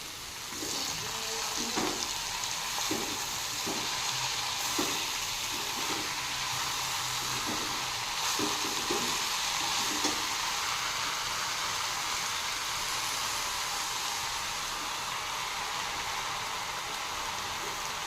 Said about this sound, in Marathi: ही छान धुवून ठेवलेली तांदूळग्याची भाजी मी घालत आहे